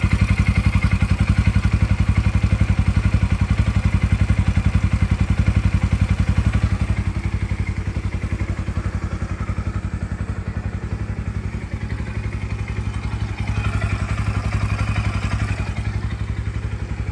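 A 240cc motorcycle engine idles steadily after a cold start at about 1,500 RPM during break-in, with a fast, even mechanical chug and light clatter, close and constant throughout.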